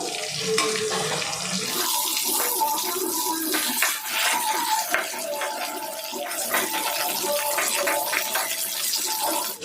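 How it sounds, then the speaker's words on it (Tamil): Marinated chicken leg pieces sizzle in hot oil, a dense continuous hiss and bubbling that stays close and steady throughout, with no talking. "ஆயில் நல்லா சூடாகிடுச்சு இப்போ நம்ம மேரினேட் பண்ணி வச்சுருக்க சிக்கன் லெக் பீஸை சேர்த்துடலாம்"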